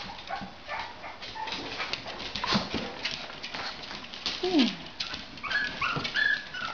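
Puppies whimper and whine in high, wavering cries, several short yelps overlapping near the end amid light rustling.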